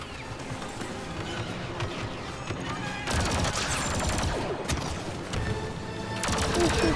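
Sustained gunfire crackles through an arcade video game, dense rapid shots in a continuous mid-distance barrage with louder stretches partway through.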